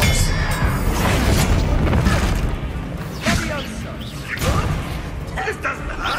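Spell impacts crash through a Hogwarts Legacy video game duel: booming thuds and whooshing blasts land in bursts beneath loud, continuous shouted speech.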